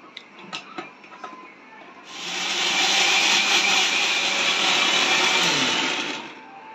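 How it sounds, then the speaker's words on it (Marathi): A kitchen mixer grinder grinding a thick pav bhaji spice paste without water: a few light knocks and clicks, then a loud, steady high-pitched motor whir for about four seconds before it winds down. "फक्त ही पेस्ट मस्तपैकी मिक्सरला दळून घेऊया"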